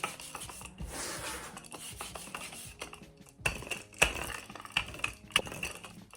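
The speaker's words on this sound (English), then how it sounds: "I'm gonna fold it towards me and then roll it out again" A rolling pin rubs and presses across gluten-free buttermilk biscuit dough made from scratch, producing close, gritty rasping and scraping strokes with a few sharper knocks.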